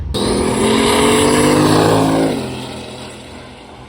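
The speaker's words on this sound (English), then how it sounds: "Okay guys, we have the Pizza Planet truck." Pizza Planet drag racing truck makes a loud, close pass on the drag strip, its engine roaring at high revs before the note drops away as it lifts off the throttle and coasts.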